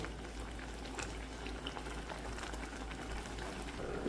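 Amaranth greens and onion simmer in a pot, giving a steady close bubbling and soft sizzle that runs continuously with no pauses and no voices.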